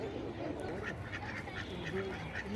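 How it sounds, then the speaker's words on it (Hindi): Ducks on a small integrated farm quack in short, repeated calls over a constant background murmur, moderately close and fairly loud. "पहले बत्तख देखिए आप, कितने प्यारे लग रहे हैं"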